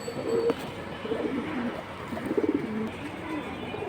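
A pair of light-coloured silver pigeons at a loft gives soft, low cooing phrases, close and moderately loud, over a steady background hiss.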